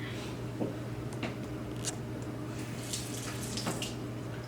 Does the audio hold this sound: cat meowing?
no